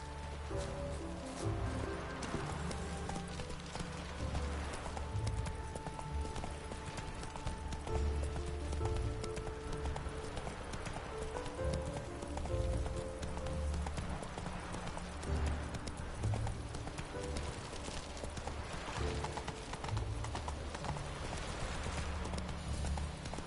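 The horse Roach gallops in The Witcher 3, its hooves drumming a steady, loud clip-clop over rustling ground that continues unbroken throughout with no talk.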